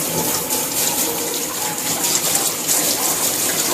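Water from a hose or tap runs over a dog's coat during a bath to wet it all over. A loud, steady, close-up gushing spray continues without pause, with no talking.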